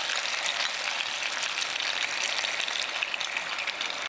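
Mussels and white wine hit a hot pan for Italian-style steamed mussels, giving a loud, dense, unbroken sizzle that holds steady throughout with no talking.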